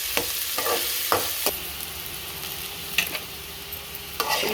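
Onions, curry leaves and eggplant sautéing in a pan make a continuous sizzle broken by sharp spatula clicks and scrapes at irregular intervals.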